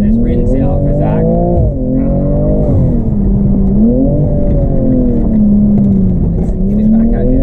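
A BMW G42 M240i fitted with lowering springs accelerates hard, its engine note loud and close, rising and dipping through gear changes in a continuous surging drone.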